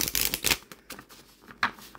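Quick papery riffles and soft flicks of a tarot card deck being shuffled by hand, a few bursts close up with brief pauses between.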